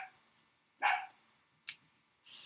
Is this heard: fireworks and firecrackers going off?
no